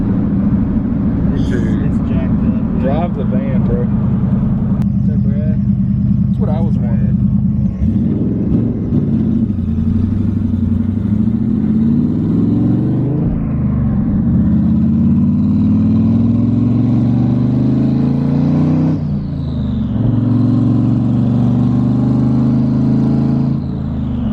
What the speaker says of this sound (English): This thing feels 10 times better than Brad's Mustang did with solid mounts